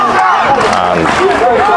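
Home fans in a football stadium roar and cheer in ovation for a goalscorer, a loud, unbroken wall of crowd noise with swelling shouts.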